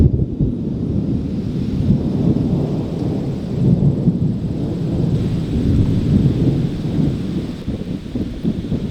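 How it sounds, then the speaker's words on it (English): Thunder rumbles from a passing thunderstorm, a long, deep, rolling boom that swells and fades over several seconds outdoors, fairly loud with a faint rain-like rustle and no speech. "you guys hear that thunder?"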